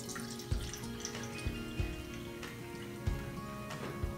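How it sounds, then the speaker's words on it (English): Warm water poured from a measuring cup into a small bowl while making slime, a quiet running trickle broken by several soft splashes and knocks. "we need to measure out 1 cup and pour it into the small bowl"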